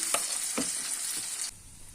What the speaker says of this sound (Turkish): Şimdi kızarmasını bekleyeceğim.